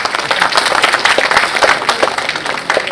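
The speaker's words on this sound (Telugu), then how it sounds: "మీ అందరి తరఫున సార్లందరికీ బిగ్ క్లాప్స్." An audience at a retirement function claps together in a short burst of dense, lively applause, heard close and fairly loud.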